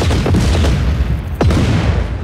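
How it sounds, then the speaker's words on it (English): Underbarrel grenade launcher fire in Just Cause 4: heavy, close booms with a thudding blast and a quick whooshing sweep, loud and without speech. "That's a standard issue Black Hand service, right? Oh. With an underbarrel grenade launcher."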